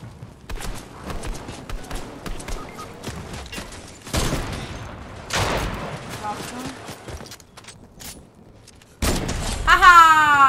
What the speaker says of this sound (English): I saw the shooting.